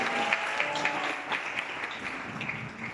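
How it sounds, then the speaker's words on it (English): A church congregation claps for a pastor's husband in a sanctuary service, a steady, moderately loud wash of hand claps lasting throughout with a faint tone lingering in the background. "Can you clap this for my husband?"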